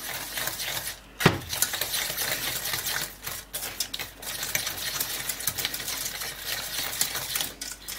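Egg mixture is whisked in a bowl with a utensil, giving quick irregular clinking and scraping strokes, close and fairly quiet, with one sharper knock early on.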